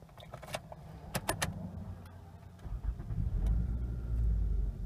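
A 2010 Toyota Venza is started up: a few clicks and keyless rattles, a brief cranking whir, then the engine catches and settles into a low, steady idle rumble, heard close from inside the car.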